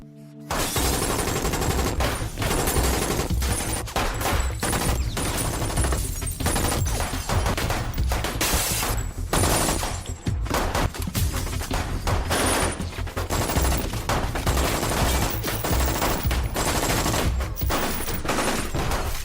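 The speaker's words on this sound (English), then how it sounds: "Everyone stood up and got ready, and the barbaric gunfight began." Sustained gunfight in an action movie, with dense, rapid machine gun bursts and overlapping gunshots firing almost continuously, loud and close throughout.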